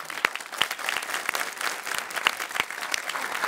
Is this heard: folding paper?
no